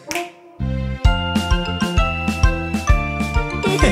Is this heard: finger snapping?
yes